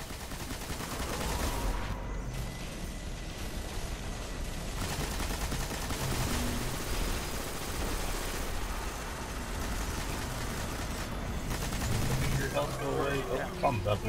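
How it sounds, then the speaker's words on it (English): Enemies fire on players in Destiny's Summoning Pits, a steady, loud clatter of automatic gunfire and heavier blasts running throughout, with voices talking now and then over the shooting. "They're shooting us."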